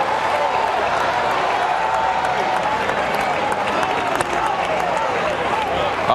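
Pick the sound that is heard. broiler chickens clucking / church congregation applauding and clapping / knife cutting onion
church congregation applauding and clapping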